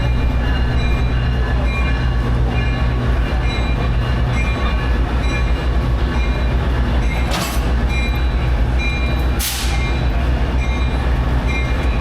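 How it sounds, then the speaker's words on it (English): An Amtrak diesel passenger train rumbles steadily nearby with a constant low drone and clatter, broken by two brief sharp squeals of metal partway through. "Looks like we got a diesel train hooked up to the front."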